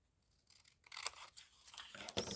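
Scissors cutting paper by hand for a wrap-around pocket closure: a few short, close snips and crisp paper rustles, quiet and brief, with no talking.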